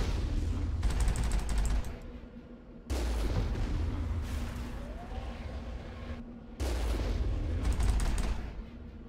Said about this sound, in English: Oh, there's still more rockets being fired.